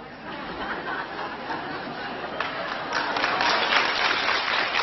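Audience members at a talk break into clapping mixed with chuckles and murmured chatter, the applause swelling louder and denser toward the end.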